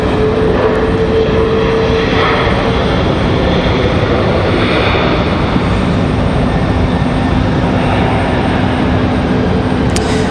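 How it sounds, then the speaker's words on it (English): A Republic Airways airliner departing from Raleigh-Durham airport, a loud, steady jet roar filling the whole stretch close by, with no voices over it. "The Republic Airways livery up for departure."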